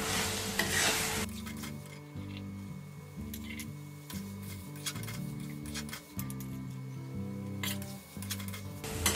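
Boiled fresh peas tip into a hot pan with a sharp burst of sizzle, then settle into steady frying for a Bengali pea curry, with a spoon scraping and stirring against the pan in a repeating rhythm close by.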